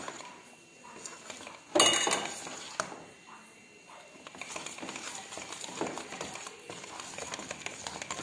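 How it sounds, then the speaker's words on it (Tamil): Cake batter being mixed with a spoon in a bowl, close clinking and scraping with a sharp clatter early on, then quick steady stirring taps. "இப்போ அதை நல்லா மிக்ஸ் பண்ணிக்கிறாங்க."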